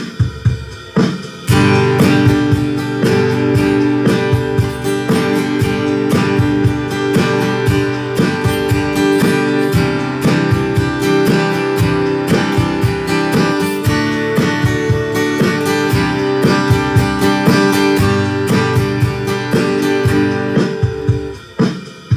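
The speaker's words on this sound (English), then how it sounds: "So that is strumming pattern number one." Acoustic guitar strummed in a steady eighth-note rhythm, chords ringing out clearly and evenly for the whole stretch with no voice.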